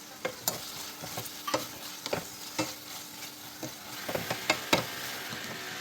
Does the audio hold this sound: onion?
yes